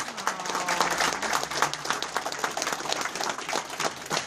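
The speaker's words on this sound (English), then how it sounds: "let's give the sisters a round of applause." Audience applause at an indoor community event in Chicago, a dense patter of many hands clapping, moderately distant and steady for a few seconds.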